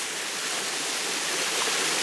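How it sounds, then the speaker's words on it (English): A waterfall at Springwood Falls beside a man-made pool, heard as steady, full broadband rushing of falling water that stays even and continuous throughout, close and fairly loud with no other sounds standing out. "enjoy the waterfall"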